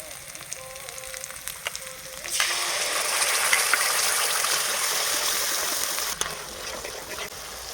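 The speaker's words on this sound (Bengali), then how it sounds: "পেঁয়াজ আর জিরে বাটা একটু ভাজা ভাজা হয়ে গেছে এবার দিয়ে দেবো তৈরি করা মশলা" Onion and cumin paste sizzles in hot oil for a pangash fish do-peyaji, with a steady low fry that swells into a loud, dense sizzle as ground spice paste goes into the pan and keeps going to the end.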